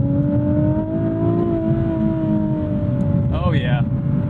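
A 2020 Nissan 370Z NISMO with its naturally aspirated engine pulls hard, a loud steady drone rising slowly in pitch, with a brief chirp near the end.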